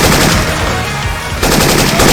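Loud rapid automatic gunfire from Syphon Filter weapon sound effects in Left 4 Dead 2, a dense sustained burst that eases briefly mid-way then resumes at full intensity, with no voices.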